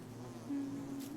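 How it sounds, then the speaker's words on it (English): Bees buzz in the survival video game Don't Starve Together, a brief faint droning hum that swells midway through, low under the game's background ambience. "You hear bees?"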